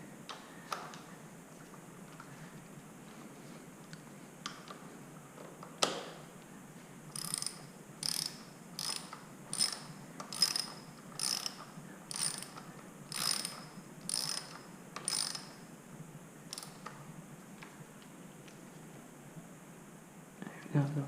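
A hand ratchet clicks in a steady run of short bursts while tightening bolts secured with Loctite during cosmetic upgrades, the close, crisp pawl ticks coming in regular strokes over a quiet room tone with faint handling noise.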